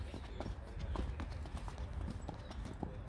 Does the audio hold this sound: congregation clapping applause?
no